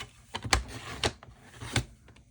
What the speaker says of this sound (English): So let me just trim this here while I've got it in my hands.